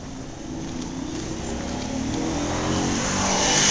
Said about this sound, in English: Car's hauling.